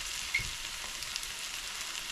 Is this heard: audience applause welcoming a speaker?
no